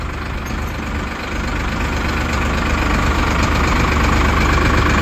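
A combine harvester working a paddy field runs its diesel engine steadily and close by, a loud continuous low rumble that builds slightly over the seconds, with no one speaking.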